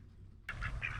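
Hungry ducks quack in a few loud, nasal bursts that start abruptly halfway through, close and clear with nothing else heard.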